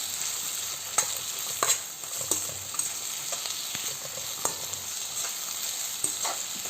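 Rava upma frying with salt in a pan: a steady close sizzle with repeated scraping stirs of a spatula, running alone throughout.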